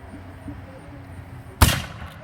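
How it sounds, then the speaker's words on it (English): A three-barrel Chinese hand cannon fires with one sharp, loud blast that stands out against a low outdoor rumble. Only one shot is clearly heard. "3-barrel Chinese hand cannon, fired in succession, one at a time."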